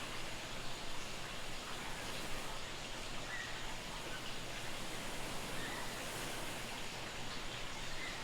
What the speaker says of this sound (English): the sounds of the water, and the ocean in the distance.